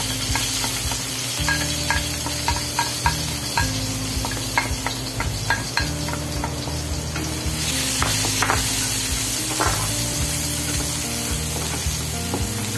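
Garlic sizzles in about two tablespoons of oil at the start of a Filipino cabbage stir-fry, a constant loud frying hiss with scattered spatter pops and a low steady hum beneath.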